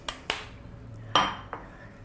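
Utensil scraping and clinking against a bowl while wheat flour is stirred into passion fruit cake batter, a few sharp knocks spaced irregularly, close and fairly quiet.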